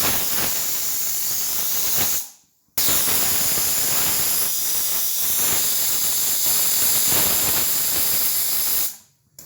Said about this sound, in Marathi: आता आपण कुकरचं झाकण लावून घेऊया आणि याला 2 शिट्ट्या होऊ देऊ